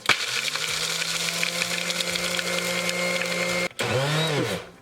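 A kitchen blender grinds cashews into flour, a loud steady whirring motor run close up that cuts out briefly near the end and then spins back up for a short burst, with no talk.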